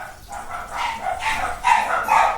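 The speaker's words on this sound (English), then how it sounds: "That was my dog's going nuts." A dog barks repeatedly indoors, a short run of sharp yips and barks at moderate distance, fairly quiet over a faint background hum.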